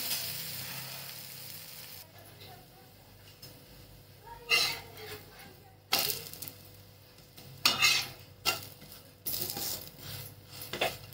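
Food is flipped over and fried in a pan, with a low steady sizzle broken by several sharp clinks and scrapes of a utensil against the pan, and no talking.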